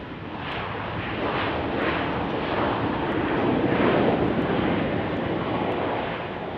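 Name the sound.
Airbus A321 from Orlando on the ground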